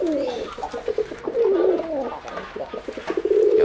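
A female racing pigeon coos close and loud, repeated warbling rolling calls in a steady sequence, with faint background noise and no clear speech.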